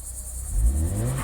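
A Ford Focus ST fitted with an aftermarket blow-off valve, its engine giving a low, steady rumble that swells briefly near the middle of the short burst, heard fairly close with no talking.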